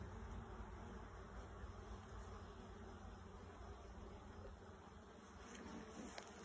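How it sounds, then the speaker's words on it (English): Inside an open beehive during an inspection, many bees hum in a continuous, steady buzz, close up, with a faint sharp tick or two near the end. "wow, lots of bees in here, man"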